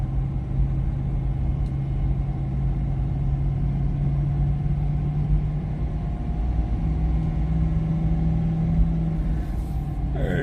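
A car coasting along a private test road without braking, fitted with PowerStop Z26 ceramic low-dust brake pads, gives a steady low rumble of engine and tyre noise that holds even throughout, with no voices.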